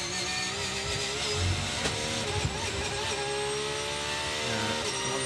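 Race cars at the Twelve Hours of Sebring, including a Porsche GT car and prototypes, make a dense, sustained engine roar with layered whining tones as they pass. The sound is loud and steady, and no one talks over it.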